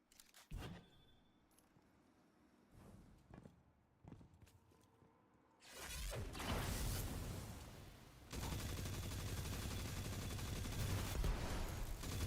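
Rapid SMG fire in Apex Legends, quiet at first and then bursting loud and sustained through the second half, continuous bursts with no talking.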